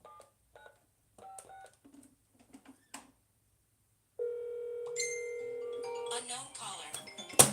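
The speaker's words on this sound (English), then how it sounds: "Okay, that's my phone right there." A mobile phone sounds after a few scattered beeps like keypad presses. A steady electronic ringing tone then holds for a couple of seconds, followed by a brighter warbling ring, fairly close and clear.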